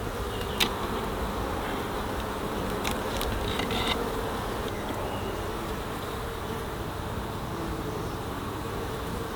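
Honey bees drone steadily in an open, queenless beehive, a dense continuous buzz close by, with a few individual bees zipping louder past the ear now and then.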